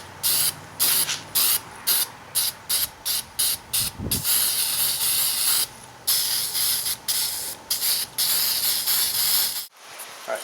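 SEM copper weld-through primer sprayed from an aerosol can onto a rusty trunk lid and metal patch, a series of short, close hissing bursts in an uneven rhythm, some longer, ending with a clatter.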